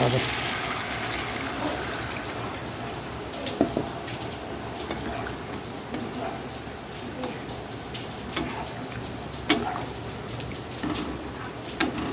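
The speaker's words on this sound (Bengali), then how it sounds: "একটু জল দিয়ে দেবো" Water goes into a pan of simmering gathi kochu (taro) curry, giving a steady low sizzle and bubbling with a few brief splashy bursts throughout, close and moderately loud.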